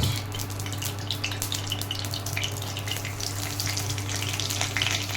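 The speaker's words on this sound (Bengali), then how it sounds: "জিরে আর কালো জিরে ফোড়ন দিলাম" Cumin and nigella seeds temper in 2-3 spoons of hot oil in a kadai for a banana flower curry, a close, steady crackling sizzle over a low constant hum.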